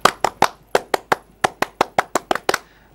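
A scout group, Pramuka members, perform a rhythmic clapping chant: about fourteen sharp, close hand claps in an uneven patterned rhythm, loud and clear with no voices over them.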